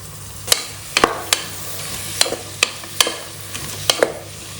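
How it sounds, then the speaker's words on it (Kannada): Mixed vegetables and tomato frying in a pan for vegetable pulao, with a low steady sizzle broken by about ten sharp spoon-on-pan clinks and scrapes at irregular intervals, no voices. "ಎಲ್ಲವನ್ನು ಚೆನ್ನಾಗಿ ಫ್ರೈ ಮಾಡ್ಕೊಳ್ಳಿ."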